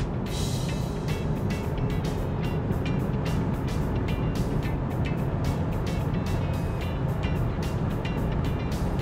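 A BMW X5 xDrive40e hybrid SUV drives at speed, giving a steady, loud, continuous rush of road and wind noise with a low rumble throughout and no voices.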